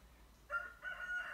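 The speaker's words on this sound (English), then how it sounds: "Oh my gosh, it's a rooster!" A rooster crows twice in quick succession in the video game Stardew Valley, clear but moderately quiet over a faint hum, with no talking.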